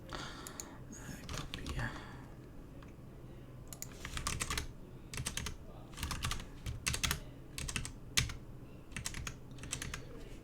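Computer keyboard typing during a coding session, quick bursts of clattering keystrokes separated by short pauses, close by, with someone talking in between.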